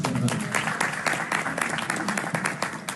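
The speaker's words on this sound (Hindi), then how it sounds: "ये कमाल की बात है, तालियां होनी चाहिए" Studio audience applause on a talk show, a rapid, crackling patter of many hands clapping with a voice faintly mixed in underneath.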